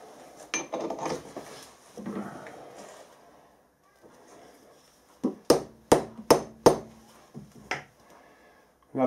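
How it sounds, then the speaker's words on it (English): A rubber hammer taps a workpiece down onto a parallel in a milling machine vise, about half a dozen sharp, evenly spaced knocks following quieter shuffling handling noises. "Just bed it down with a rubber hammer."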